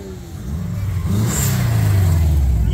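A Porsche engine revving up nearby at a car meet in the Netherlands, a steady rising growl building in loudness over a few seconds.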